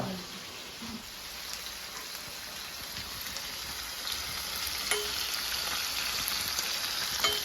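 Prawns for a Kerala-style prawn roast sizzle and spit in a hot pan, a steady broadband frying hiss with scattered crackles and a few soft scraping knocks as the pieces are turned, close and continuous with no talk.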